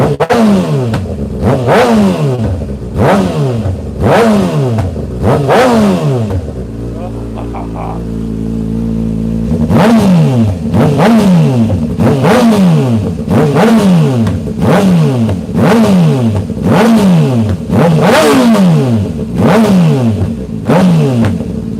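A motorcycle engine warms up and revs repeatedly, loud and close, with rising and falling bursts throughout, a brief steadier idle in the middle, then more blips of revving.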